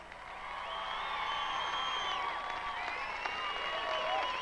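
A large concert crowd at a Native American music awards show in Albuquerque cheers and applauds, with sustained roaring and scattered whoops and whistles swelling over a few seconds.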